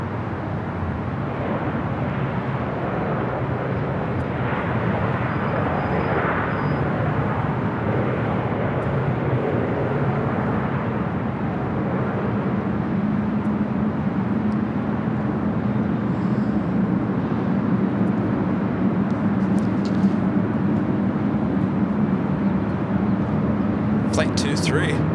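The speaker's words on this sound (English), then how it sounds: "Air France 777-300ER heading to 24 left." An Air France Boeing 777-300ER jet heading to runway 24 left at LAX, heard as a steady, broad engine roar with a low rumble that holds at a constant level throughout, while a person talks over it.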